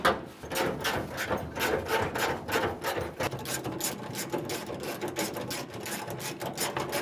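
Bolts are ratcheted tight on an International C-1100 pickup truck, a rapid run of close, clicking strokes that repeats steadily throughout.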